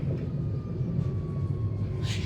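A tram rounds a curve, giving a steady rumble of wheels on rails with a thin, sustained high squeal from the track throughout and a brief hiss near the end.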